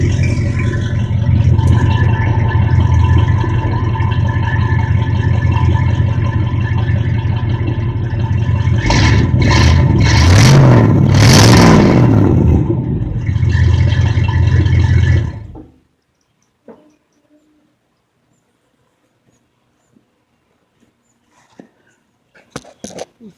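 A truck engine fitted with dual Speedway mufflers rumbles steadily at idle, swells through a couple of revs, then cuts off into near silence with a few faint knocks at the end.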